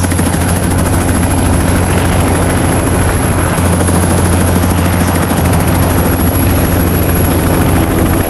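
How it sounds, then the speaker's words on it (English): A helicopter's spinning rotor blades beat in a loud, steady thrum with a low engine drone, holding constant and close for the whole stretch with no voices. "This is a helicopter. Its blades spin around."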